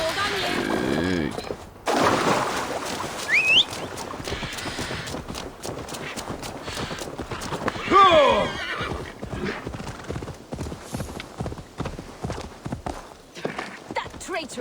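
A horse in Assassin's Creed Valhalla whinnies loudly at the start and again midway, while rapid clip-clopping hooves beat steadily throughout, close and prominent.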